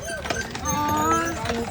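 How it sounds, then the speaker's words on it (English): Horses pull a Grand Hotel bus on Mackinac Island, their hooves clip-clopping at a steady pace beneath a mix of background voices and ambient sound. "Over here's the Grand Hotel bus, pulled by perch-drawn horses."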